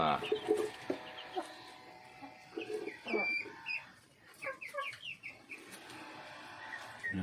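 Morning in a backyard chicken coop holding Pradu Hang Dam hens and other breeds, with close clucking and chattering from several birds that runs under someone talking.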